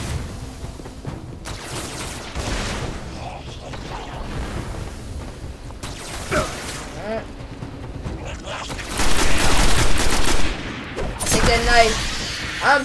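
Gunfire in Destiny, with bursts of loud noise across the clip, the heaviest near the end, mixed with voices and game sound.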